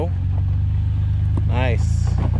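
Off-road vehicle engine laboring up a rocky trail near Big Bear, a steady low drone held close and loud throughout, with people shouting over it and a brief high whine rising partway through.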